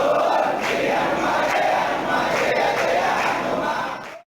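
Dense crowd of devotees at Kondagattu Anjanna temple chanting Rama's name on Hanuman's birthday, a loud sustained mass of voices with rhythmic swells that runs steadily before cutting off abruptly.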